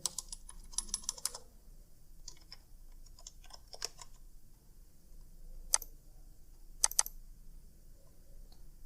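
Fingers type a formula into Excel 2016 on a computer keyboard, making quick bursts of light clicking keystrokes at the start, then sparser separate taps with a few sharper key presses later, fairly faint and close.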